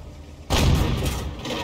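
Heavy tank gun blast in the online tank battle game World of Tanks, a sudden loud boom after half a second of quiet that rolls on as a sustained rumbling roar to the end.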